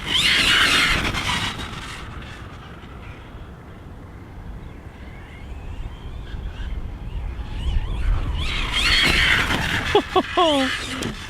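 Losi Super Rock Rey RC truck on an 8S battery, whining motor bursts loud at the start and again near the end with a quieter rumbling stretch between, outdoors with wind noise and a person talking.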